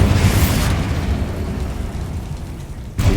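Confringo and Bombarda spell blasts in the Hogwarts Legacy video game during a spider fight, heard as one loud, dense roaring explosion that rumbles for about three seconds before a fresh burst hits at the end.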